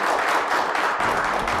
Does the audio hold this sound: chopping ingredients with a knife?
no